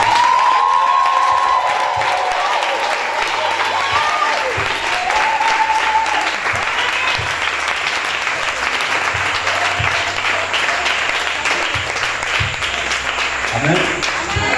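A church congregation applauds and cheers loudly and steadily throughout, with shouts and voices rising over the dense clapping, a brief high whistle-like cry near the start.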